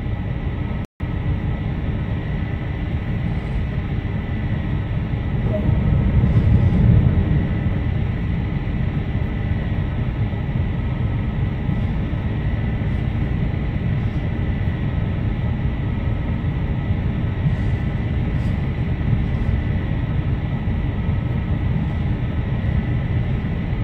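A Class 47 diesel-electric locomotive engine in the Train Sim World game runs as a steady, loud, continuous rumbling drone, swelling briefly early on, with no talk.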